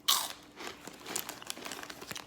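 Crisp crunching bites into a cheese-flavored Caribbean snack, a sharp loud first crunch followed by a run of close, irregular chewing crackles with no talking.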